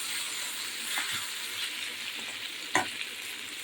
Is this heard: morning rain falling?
no